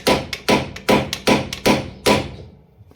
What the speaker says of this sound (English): We're tapping that ball joint with the hammer because we're taking it out anyway.